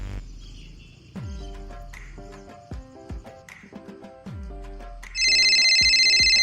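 A telephone rings loudly and steadily near the end, with an electronic bell tone that follows a stretch of rhythmic music with drum-like beats.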